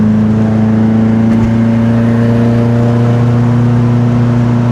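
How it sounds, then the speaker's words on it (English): A Porsche 914 with a 2.0-liter engine pulls steadily, its engine drone loud and continuous with a strong, even low hum held throughout. "The 2-liter engine on a 914 has plenty of power for an enthusiast like yourself or myself to go out and enjoy a car like this"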